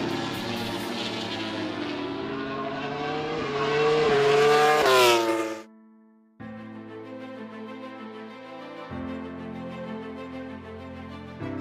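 Suzuki GSX-R MotoGP racing motorcycle engine on a test track, rising in pitch to a loud screaming peak, cutting out briefly, then returning as a steadier, lower revving drone.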